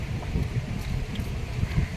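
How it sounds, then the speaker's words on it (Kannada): Wind blows across Puducherry beach, a steady low rumbling rush buffeting the microphone for the whole stretch with no voices. "ಒಳ್ಳೆ ಗಾಳಿ ಇದೆ"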